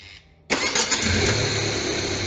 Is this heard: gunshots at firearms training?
no